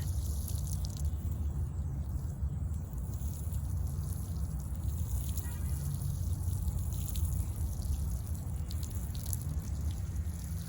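Garden rows being watered by hand, a steady low hiss of spray and water pattering onto soil that runs evenly throughout, fairly soft, with no talking.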